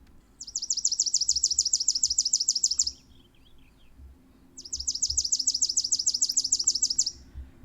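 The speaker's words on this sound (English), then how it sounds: "So I'm going to play a bird call for Sam now." A recorded bird call is played back from a device for a birding challenge: two bursts of rapid, high, bright chirps, each lasting about two and a half seconds and separated by a pause, loud and clear over a quiet background.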